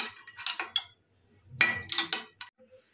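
A spoon clinks against a bowl while stirring honey into puffed-up khoi, several short, close metallic taps in two bursts separated by a brief pause.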